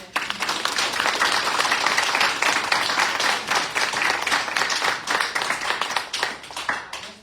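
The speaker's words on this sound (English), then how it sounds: "So let's give him a round of applause for that." Sustained applause from the audience at a city commission meeting in Mulberry, many hands clapping steadily and fairly close for several seconds before tapering off at the end.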